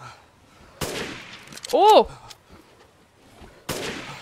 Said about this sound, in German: Hey, der Schuss war gut.